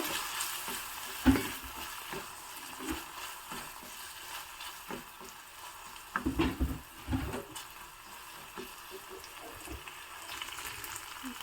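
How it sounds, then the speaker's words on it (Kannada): Tomatoes frying in ghee in a pan, salted and stirred: a steady close sizzle with scraping spoon strokes and a few louder clatters around the middle, no talking. "ಈಗ ಒಂಚೂರು ಉಪ್ಪನ್ನು ಸಹ ಹಾಕಿಬಿಡ್ತಾ ಇದ್ದೀನಿ ಚೆನ್ನಾಗಿ ಬಾಡತ್ತೆ ಟೊಮೊಟೊ ಎಲ್ಲ"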